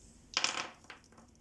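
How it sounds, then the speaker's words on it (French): Dice are thrown and rattle onto a hard surface, giving a short burst of quiet clattering followed by a couple of small clicks as they settle. "Je commence tout de suite par un lancer de dés"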